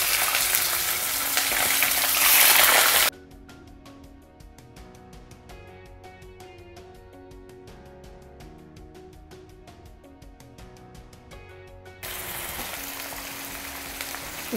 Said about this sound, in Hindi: तेल हमारा खूब अच्छे से गर्म हो गया है, धुआं निकल रहा है, तो इसमें हम कलेजी को डाल देंगे।